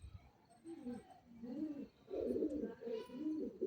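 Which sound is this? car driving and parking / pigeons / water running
pigeons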